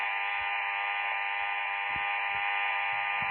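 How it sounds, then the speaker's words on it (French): A household vacuum cleaner runs as a steady, loud, continuous whine and hum, with a few low thumps underneath and no talking. "Je vais passer l'aspirateur."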